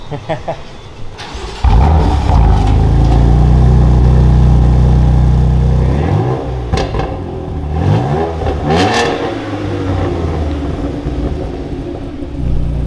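A BMW M4 Competition with an AWE SwitchPath exhaust cranks and fires up on a cold start with a loud burst of exhaust, then settles into a deep, rumbling idle with a few revs, close by.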